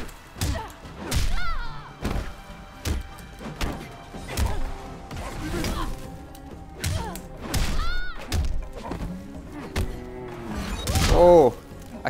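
Heavy punches and thuds landing in a Mortal Kombat X fight, a rapid string of impacts mixed with grunts and game effects, with a player talking over the action.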